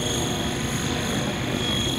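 A Tron 7.0 Dnamic RC helicopter drones with a steady whine as its rotor spools up, a continuous moderately loud hum with a high tonal edge and no talking.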